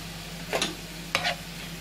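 Garlic sautéing in a pan with ground coriander and paprika while cooking meatless moussaka: two short sizzling stir bursts over a quiet background hiss, fairly close.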